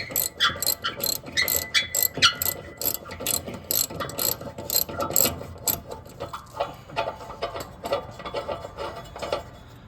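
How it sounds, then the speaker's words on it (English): A ratchet wrench loosens the bolt holding the blade on a 42-inch zero-turn mower, a rapid series of sharp metallic clicks in quick bursts, close and clear with no talk. "we'll just undo this bolt here"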